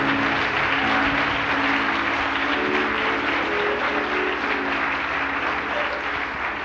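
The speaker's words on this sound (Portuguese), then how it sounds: "Força o teu aplauso a Ele." Church congregation applauding steadily and loudly, a dense continuous clapping that fills the space throughout, with a faint musical hum beneath.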